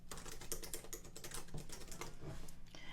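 A computer keyboard clatters as a project name is typed, about three seconds of quick, uneven keystrokes close to the microphone, with no talking.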